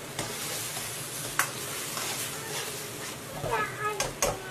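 Tofu skin being stir-fried in a wok, with a steady sizzle and a few sharp scraping clinks of the spatula toward the end, close and moderately loud, with a voice talking over it.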